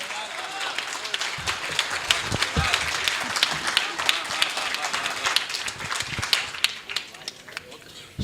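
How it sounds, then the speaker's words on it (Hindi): An audience at a Hindi poetry recital claps and gives a standing ovation, with irregular, uneven clapping and distinct individual claps and knocks. People talk over the applause. "जोरदार तालियों से खड़े होकर के"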